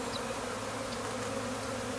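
Honeybees from a captured swarm fan their wings at the hive entrance, making a steady, close hum of many insects that carries unbroken from start to finish with no talking.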